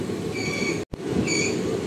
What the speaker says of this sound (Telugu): మొత్తానికి థర్డ్ ప్లాట్ఫామ్ మీద ట్రైన్ వచ్చింది